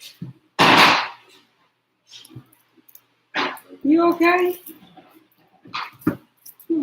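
A little Yorkie dog barks sharply and whimpers in short bursts close by, with people talking around and between the sounds.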